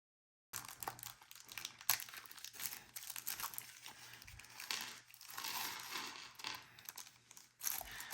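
A plastic bag holding bolts for an RC crawler beadlock wheel is crinkled and torn open close up, with irregular rustling and crackling bursts and no talking.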